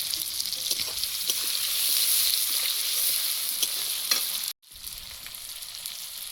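Chopped onion with a pinch of salt frying in a pan, giving a steady close-up sizzle and crackle with faint stirring, broken by a brief dropout near the end.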